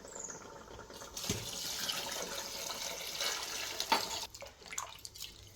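Water pours into a pot of soaked rice for chicken biryani, a continuous splashing gush that runs for several seconds, then trails off into drips and light clinks.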